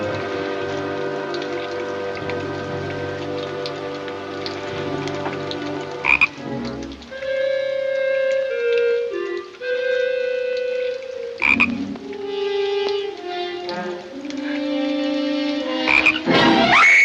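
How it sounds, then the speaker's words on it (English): A chorus of frogs croaks steadily in a night scene from the 1939 film Nancy Drew and the Hidden Staircase, overlapping tonal calls rising and falling continuously over a soft rain-like wash. "Don't tell me you're scared of frogs."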